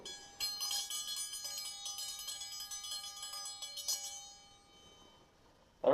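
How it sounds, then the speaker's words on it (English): A handmade forged steel dinner bell triangle rings out loud and bright, a shimmering metallic tone with sustained ringing overtones that slowly decays, then a sudden louder clank at the very end. "One dinner bell triangle."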